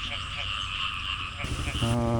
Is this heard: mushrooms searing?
no